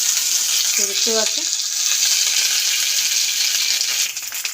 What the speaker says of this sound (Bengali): তো এই যে হালকা করে ভাজা হচ্ছে।